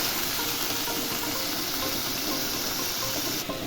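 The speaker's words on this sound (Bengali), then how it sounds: "এবারে তেলের মধ্যে শাকগুলোকে দিয়ে দেবো।" Mature stemmed amaranth greens hit hot oil tempered with cumin seeds in a pan, giving a steady, close, bright sizzle that holds evenly for a few seconds.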